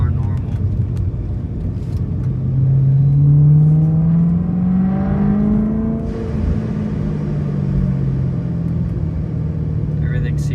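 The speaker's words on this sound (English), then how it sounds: "so this is just driving the car normal" A BMW E92 M3 drives steadily with a low engine rumble and drone that rises and falls, heard from inside the cabin with some wind noise.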